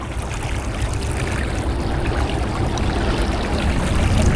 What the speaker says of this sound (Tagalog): Wala, ang lakas ng agos.